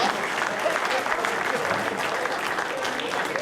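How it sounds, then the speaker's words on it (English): An audience at a retirement party applauds Tommy Dietz, with close, steady clapping from a room of people running continuously for a few seconds. "Big round of applause, Tommy Dietz."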